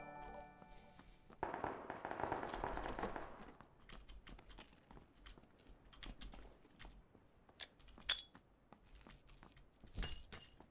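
A grenade blast in PlayerUnknown's Battlegrounds erupts as a dense burst of noise, followed by scattered sharp cracks and clatters of gunfire and debris at varying distances.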